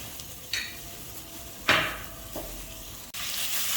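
Garlic for chicken Manchurian sizzles in a hot pan with a steady hiss, broken by a few sharp stirring scrapes and utensil knocks, close up with no talk.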